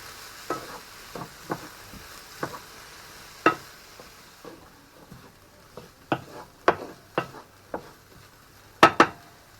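Finely diced red and yellow peppers cook in a pan while a spoon repeatedly clacks and scrapes against it, producing irregular sharp knocks over a faint sizzle. The sound is close and clear, with no voices.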